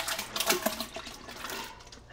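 Strawberries, crushed and juicy, are poured into a pot for jam, making a wet, continuous sloshing pour up close that tails off after about two seconds.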